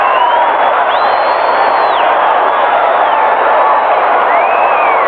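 A large stadium crowd roars at a 1984 USFL playoff football game between the Michigan Panthers and Los Angeles Express, a loud continuous wash of cheering with rising whistles and whoops, a commentator's voice faintly beneath it.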